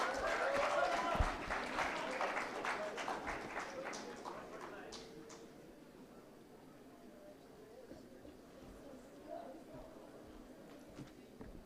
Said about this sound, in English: Please welcome him on the stage with a huge round of applause.